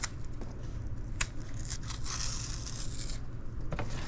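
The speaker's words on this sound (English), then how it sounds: "Peeling a plantain is as simple as that." Ripping and tearing sounds come up close as a plantain skin is peeled off by hand, in short irregular bursts over a quiet background.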